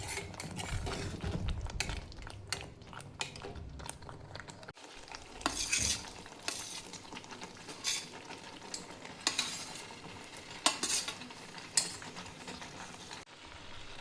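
Okra is stirred into fried masala in a pan, with a spoon scraping and clacking in repeated bursts over a soft, continuous sizzle of hot oil, close and fairly clear throughout.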